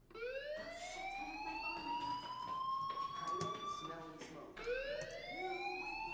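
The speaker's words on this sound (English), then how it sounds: "do you hear that fire alarm? That means you should be outside." Fire alarm ringing in the Life is Strange video game, a loud rising electronic siren tone repeating in long sweeps, with a second wail starting near the end and faint background sounds beneath.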